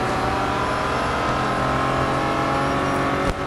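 Engine of a Nissan Skyline R34 in the racing game Real Racing 3, a steady, loud, close engine drone held at high revs through the race, with a brief dip near the end and no voices.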